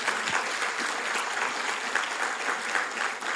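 A church congregation bursts into strong, sustained applause, a dense wash of many hands clapping steadily for a few seconds with no voices over it.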